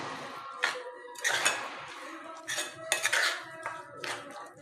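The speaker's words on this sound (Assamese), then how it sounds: "এইখিনি এটা মই ভালদৰে মিক্স কৰি ল'ম" A metal spoon stirs turmeric powder into green chilli pickle in a bowl, making irregular scraping clinks and clatters against the dish in a few separate bursts, close by.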